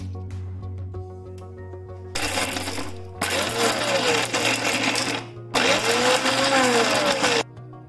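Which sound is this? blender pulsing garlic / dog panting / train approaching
blender pulsing garlic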